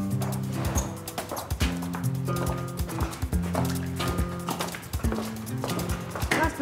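Horse hooves clip-clopping in a steady rhythmic beat, fairly close, with tonal background sound running underneath the hoofbeats.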